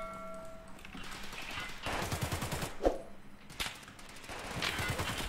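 Gunfire in the shooter game Tarkov Arena: several bursts of rapid automatic shots, moderately loud, spread across the moment with a sharp single crack in the middle and a heavier burst near the end.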